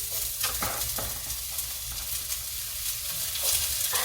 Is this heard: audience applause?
no